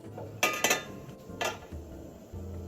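Tray of raw purple sweet potato sago cake set into a hot steamer, producing a few quick metallic clanks and clatters close up, followed by a softer knock and a low rumble of boiling water.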